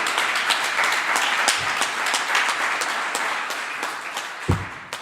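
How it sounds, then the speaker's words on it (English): Crowd applause at a community history gathering celebrating a court injunction: sustained, dense clapping from many people at moderate volume, holding steady before thinning slightly toward the end, with a couple of low thumps near the close. "You've got to give us applause for that."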